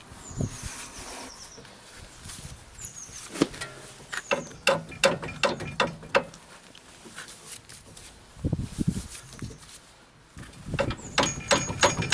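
A spanner works on a Land Rover Freelander 2 rear wheel bearing, giving irregular ratcheting clicks and metallic knocks in short bursts, close and moderately loud, with pauses between strokes.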